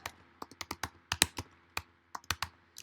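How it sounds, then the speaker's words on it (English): Fingers typing on a computer keyboard while entering card sentiments for a crafting supply inventory, a quiet irregular run of close key clicks in small bursts with brief pauses. "I'm going to type out exactly what it says"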